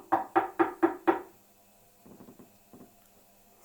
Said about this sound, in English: Mr. Happy knocked on the door.